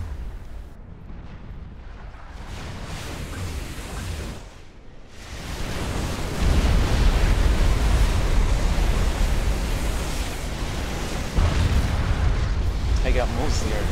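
Massed artillery pounds away in a large-scale real-time strategy battle, a dense, continuous roar of distant blasts that swells after a brief lull and keeps rumbling, with a sharp extra boom near the end and no speech.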